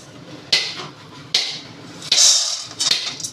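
Raw peanuts dry-roasting in a metal pot, giving a few sharp rattling, scraping bursts of nuts against the pot at irregular intervals over a low background, with no talk.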